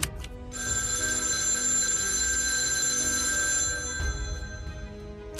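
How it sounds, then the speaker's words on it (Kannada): A telephone rings with a sustained electronic bell tone that holds steady for several seconds, then cuts off, followed by a brief click and quiet room noise. "ಜೂನ್ 17, 2025 ಫೋನ್ ರಿಂಗ್ ಆಗಿತ್ತು."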